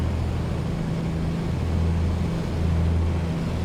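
A piston aircraft engine of an A2A Comanche 250 in Microsoft Flight Simulator idles with a low, uneven droning hum that wavers slightly, steady and moderately loud throughout.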